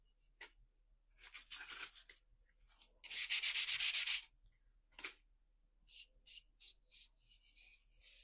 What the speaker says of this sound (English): I want it to look old, which I'm sanding most of it off